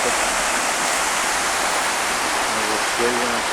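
A mountain river on a trail near Alhaurín el Grande rushes over stones in a constant, loud broadband hiss, with a person's voice faintly emerging near the end.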